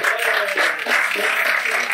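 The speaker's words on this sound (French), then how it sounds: "Allez, on l'applaudit bien fort pour l'encourager" A small audience at a magic show claps together, a brief dense patter of applause at steady volume, fairly close and full, with no talking over it.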